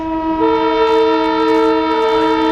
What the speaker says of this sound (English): So as we cruise back through Ellsworth, we do have locomotive 1055. It's hooked right onto the coach.